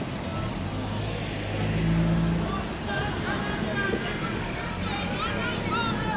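Busy city traffic in Tabriz, Iran, a dense steady wash of engines and road noise with wind buffeting the microphone, and a horn-like tone briefly rising near the middle.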